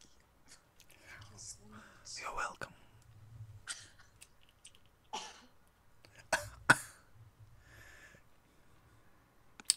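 A handful of quiet, scattered coughs and throat clears, close but soft, break up low whispering and murmured speech in a calm indoor setting.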